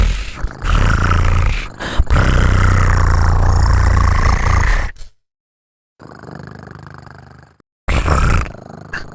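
A person imitates a cat purring with a deep, rough rumbling voice that sounds almost like an idling engine. It comes in loud bursts close to the mic, with a silent gap and a quieter stretch between them.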